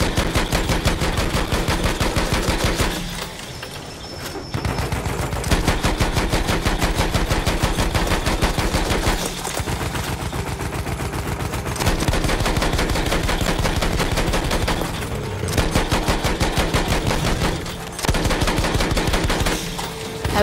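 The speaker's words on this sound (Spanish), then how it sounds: "solo estoy disparando yo" Rapid automatic gunfire in the video game Battlefield 1, with dense bursts of loud, close shots running almost continuously and brief pauses between volleys.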